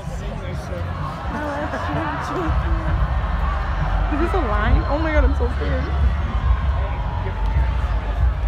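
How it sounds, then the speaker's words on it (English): A dense crowd murmurs and shuffles at the Pot of Gold Music Festival, a steady babble of many voices close around, with nearby people talking over it. "It's just the crowds."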